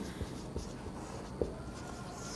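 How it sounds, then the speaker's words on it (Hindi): Quiet scratchy strokes and a few soft taps of chalk or marker writing on a board during a physics lecture, faint and close against a low room hiss. "तो यहां मैं अगला पॉइंट लिखता हूं"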